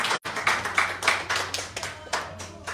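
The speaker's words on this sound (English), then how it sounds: "Let's clap for Dr. Nico's honorable." An audience at a Ugandan town hall meeting in Copenhagen claps in a brief, uneven burst of hand claps, close and fairly loud, with no talk over it.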